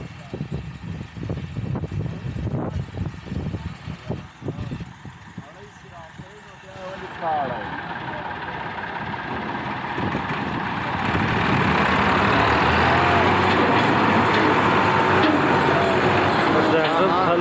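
A Massey 260 tractor pulling a farm machine runs with a steady diesel rumble that swells louder and harsher partway through as it strains, with voices talking over it.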